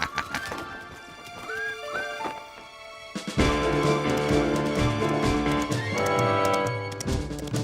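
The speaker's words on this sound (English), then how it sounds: "What a magnificent young stallion, isn't he?" A young stallion whinnies loudly, then hooves clip-clop in a steady rhythm as music swells behind, with no talking over it.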